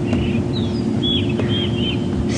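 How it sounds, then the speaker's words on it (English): A go-away bird gives a few faint, brief calls at a distance, heard over steady low vehicle rumble and rustling on an early-morning safari drive in a South African game reserve. "Oh, now I hear a go-away bird."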